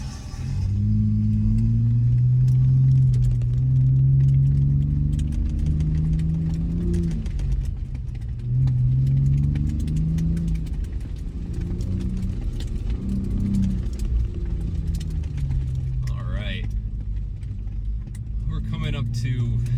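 A 2025 Ford Bronco Raptor climbs a sand dune hill at Silver Lake Sand Dunes, its engine a loud, deep rumble that rises and falls as it pulls upward, with some voices heard faintly over it.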